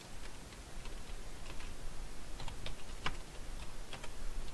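Keystrokes on a computer keyboard as a name and details are entered into a database record, a quiet scattered run of light clicks over steady background hiss.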